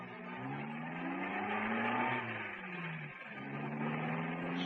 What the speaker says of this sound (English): Listen, that's a car.